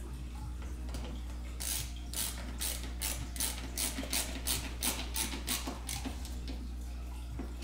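An LTT screwdriver drives screws during PC maintenance, giving a rapid series of ratcheting clicks in regular bursts, close and fairly loud over a steady low hum.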